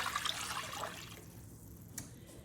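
Homemade stock being poured into a pot of tortilla soup, a close liquid splash and gurgle that is strongest in the first second, then fades to a faint trickle with a small splash near the end and no talking.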